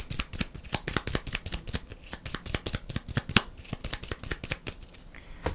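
Rapid riffling of playing cards during a board game, a dense run of crisp snapping flutters close up, continuing steadily for several seconds with no voices.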